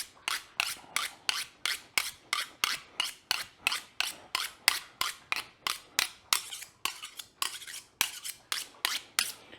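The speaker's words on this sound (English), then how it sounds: "sharpen this up because I have been cutting a lot of bread with this" A serrated bread knife being sharpened, with about two dozen evenly spaced, bright scraping strokes close by, each stroke a short rasp in a steady rhythm.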